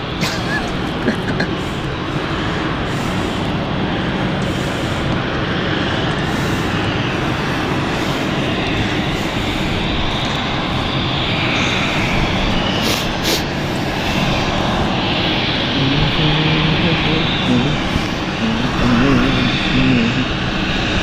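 Aircraft at London City Airport, a steady broadband engine roar running continuously and fairly loud throughout, with a faint voice in the background.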